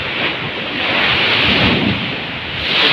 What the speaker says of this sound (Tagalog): Kung sa personal ninyo makita yan, grabe, sobrang laki talaga ng alon.